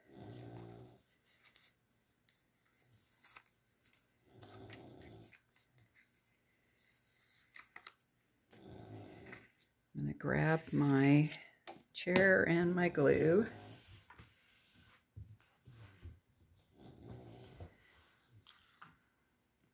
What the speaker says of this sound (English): once again snoring